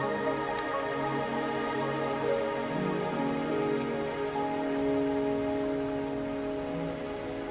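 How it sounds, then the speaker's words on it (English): Steady rain falling in the game Wuthering Waves, a continuous even patter on surfaces with a few faint drips and a low ambient drone underneath, no talk. "Are you trapped here by the rain?"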